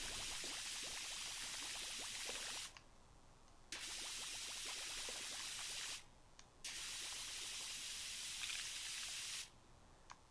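Water from a pressure washer in the PowerWash Simulator video game sprays in a steady, bright hiss across three long bursts, separated by short pauses.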